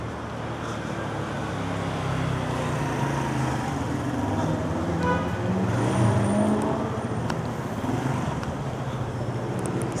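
A car drives along a quiet California street, a steady rumble of engine and road noise that swells slightly as it passes nearby, with faint background traffic.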